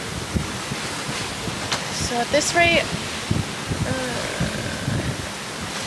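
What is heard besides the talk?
wind and ocean waves while sailing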